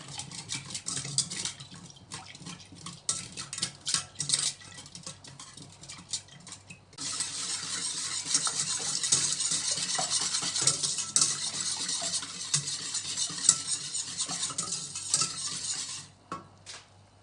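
Sugar and vanilla sugar stirred together in a bowl for an orange cake, with scraping and clinking of a utensil, then a steadier, louder hiss-like stirring through the second half.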